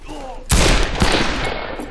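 Gunfire in the western multiplayer shooter Fistful of Frags: a sudden loud burst of shots with a sharp second report and echoing tail, a voice faintly heard just before.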